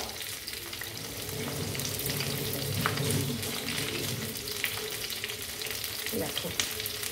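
Cauliflower pieces fry in hot oil in a steady, close sizzle that holds at an even moderate level, with a few faint clinks from the pan and no talking.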